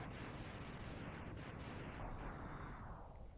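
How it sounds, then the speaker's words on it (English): A big explosion in Mega Man X on the SNES roars in a dense, crackling burst of blasts that keeps rumbling for several seconds and fades a little near the end, with no voices. "what a great explosion for the SNES"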